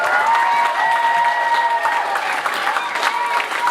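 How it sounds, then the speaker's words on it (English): Applause from a school talent show audience fills the hall, with steady clapping and crowd noise while a voice carries over it. "Can we give a round of applause for my fellow judges, Aliska and Mr. Keach?"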